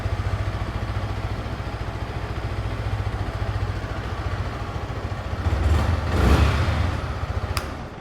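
A motorcycle idles with a steady, rhythmic thumping putter, close up, with one brief throttle blip near the end before settling again.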